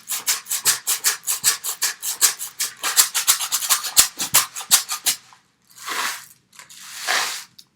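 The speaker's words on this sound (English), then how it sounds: "And you can hear that rice in there." A homemade rice shaker rattles in a steady rapid rhythm of about eighteen crisp grainy shakes, then stops and gives two slower, longer swishes; close and loud with no voices.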